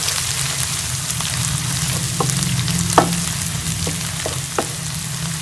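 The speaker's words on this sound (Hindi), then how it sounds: "इसे भी 1 मिनट के लिए हम प्याज के साथ अच्छे से भून लेंगे लहसुन अदरक के पेस्ट को" Steady sizzling of onion and garlic-ginger paste frying in a pan, with a few soft clicks and taps of stirring scattered throughout.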